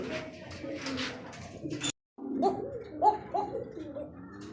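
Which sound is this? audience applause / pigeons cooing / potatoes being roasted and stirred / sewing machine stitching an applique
pigeons cooing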